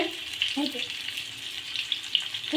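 Chicken and egg kebabs sizzle steadily in oil on a stovetop, a close, even frying hiss with small pops and a few soft clinks of handling.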